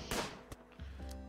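A single sharp gunshot in Rimworld cracks loudly at the start, followed by a second fainter report and a low lingering tail.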